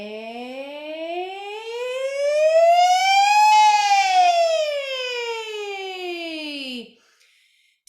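A human voice imitates a siren as a vocal warm-up on an 'A' vowel, one long sustained note sliding smoothly up, then gliding back down for about seven seconds before stopping, heard alone.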